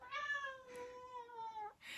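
A house cat gives one long, drawn-out meow that holds steady and trails off near the end, close and clear in a quiet room.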